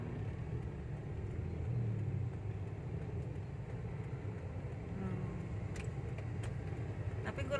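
Car engines rumble in a stop-and-go traffic jam heard from inside a vehicle, a steady low drone throughout with a faint voice murmuring in the background.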